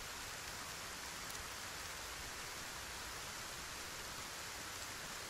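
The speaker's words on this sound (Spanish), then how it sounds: "Como llueve, chicos." Rain falls steadily in the shooter video game Arena Breakout: Infinite, a dense, even hiss of downpour with no breaks and no voices.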